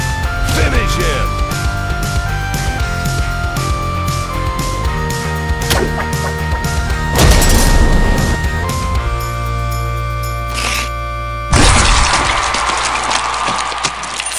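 Bowmasters fatality finishing move plays out in a dense burst of game effects and music, with layered impacts, swells and a sharp noisy crash near the end, loud and continuous.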